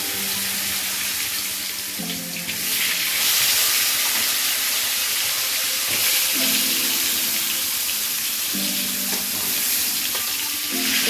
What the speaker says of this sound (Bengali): এবারে আমি পটলগুলোকে হালকা করে ভেজে নেব।